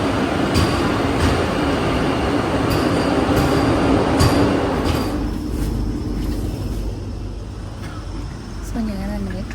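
A train rumbles steadily along with a dense rolling roar and periodic clacks, fading somewhat toward the end as a brief squeal or tone rises; faint talk mixes in.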